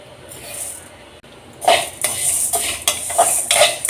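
Lentils for idly podi dry-roasted in a pan, stirred with a utensil that scrapes and clinks against the metal, with a light rustle of dry grains, loud and close.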